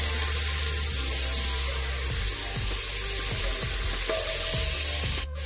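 Finely sliced onions sizzle steadily in hot oil in a pan for a Kerala chicken curry, with intermittent scraping strokes as they are stirred, close and continuous with no voices.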